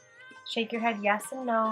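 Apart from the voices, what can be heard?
pet cat meowing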